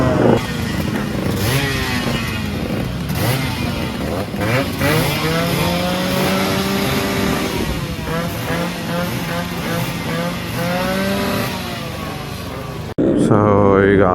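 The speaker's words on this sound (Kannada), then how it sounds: "ಸೊ ಈಗ ಒಂದು 10 ಗಾಡಿ ಇದೆ, ಎಲ್ಲ 2 ಸ್ಟ್ರೋಕೆ" A group of about ten 2-stroke motorbikes at a roadside meetup revs and idles with a loud, dense, buzzing engine drone, pitches rising and falling as throttles are blipped, and voices are heard talking beneath it.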